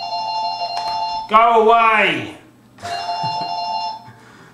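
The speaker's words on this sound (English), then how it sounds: "See when the phone's stopped ringing or I've answered it." Telephone ringing with a repeated electronic bell tone, heard in bursts separated by a short gap, while a voice shouts briefly over the middle of it.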